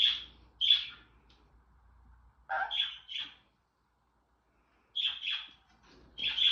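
A pet bird gives bright, short chirps in small clusters of two or three, separated by quiet gaps, close and clear in a quiet room.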